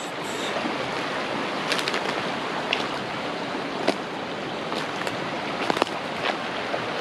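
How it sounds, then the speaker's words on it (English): Steady broadband rushing of water flowing down a brook, constant and fairly close, with a few faint clicks and knocks scattered through. "There's a fair old amount of water going down that brook as well."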